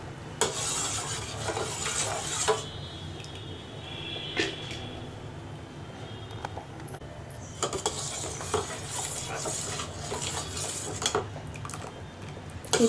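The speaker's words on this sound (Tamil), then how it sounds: "இப்போ வந்து நான் அதை கலந்து விட்டுட்டே இருக்கணும், இல்லைன்னா கட்டிடும்." A spoon stirring custard made from custard powder in a metal pan over a low flame, with repeated scraping and clinking against the pan in bursts and quiet gaps between, close and moderately loud.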